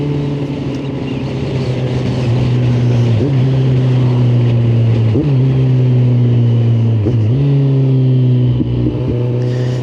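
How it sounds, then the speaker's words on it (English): A motorcycle engine running steadily at close range, with a few sharp throttle blips as the rider rev-matches on downshifts, pitch dipping and rising each time under wind rush. "you hear that little rev"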